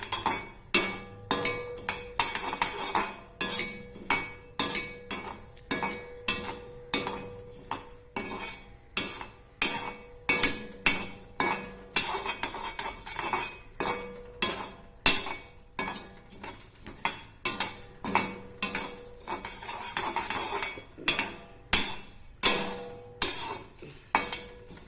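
Whole coriander seeds (dhania) dry-roasting in a pan, with a steady run of scraping, clinking stirs of a metal spoon against the pan, close and fairly loud, in repeated rhythmic strokes throughout.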